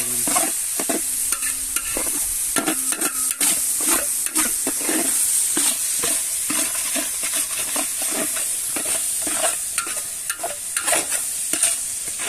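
Onions for biryani frying in a pan until brown, a continuous close sizzle with frequent rhythmic scraping and clinking from vigorous stirring, no voices over it.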